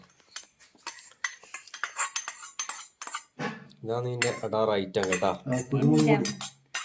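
Pork being mixed with crushed bird's eye chili and lemon, a spoon clinking and scraping against a dish in short bursts, with a person talking over the latter half.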